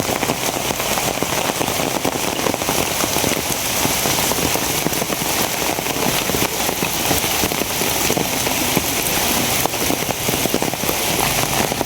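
Heavy rain pours down steadily, a dense, loud hiss of drops drumming on surfaces that stays constant throughout with no pauses.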